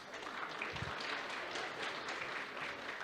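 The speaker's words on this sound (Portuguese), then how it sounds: "a quem eu peço uma salva de palmas" Audience applause at a housing conference session, a broad steady wash of clapping from a crowd filling the whole stretch without pause, no voices rising above it.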